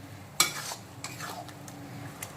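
Spice masala being stir-fried in a pan with oil for a spicy soybean curry with parwal and potato, with a sharp spatula clink followed by soft scraping and a quiet sizzle.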